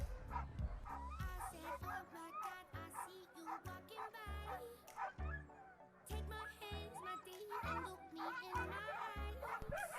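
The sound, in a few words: sled dogs barking at race start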